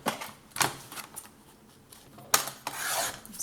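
Scissors cutting scrapbooking paper up close, with a few rasping snips in short bursts separated by quiet pauses, and no talk.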